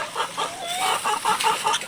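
Several hens cluck in short repeated bursts, fairly close and lively, with no talking.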